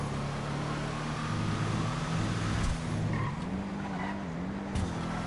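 A car in GTA Online skids and flips over, giving a continuous loud engine drone with wavering pitch and tire noise that holds steady throughout, with no talking.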